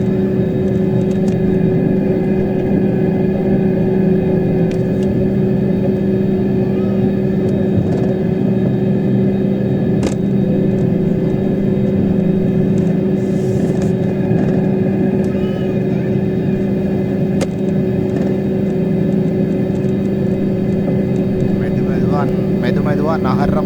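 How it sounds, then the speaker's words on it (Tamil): An airliner on the Saudi to Sri Lanka route, flight UL264, sits on the runway waiting to take off. A steady, loud cabin drone and hum with tonal whine runs the whole time, and faint voices come through now and then. "ஃப்ளைட் வந்து இன்னும் டேக் ஆஃப் ஆகல. ரன்வேயில் வெயிட்டிங்கில் இருக்கிறாங்க."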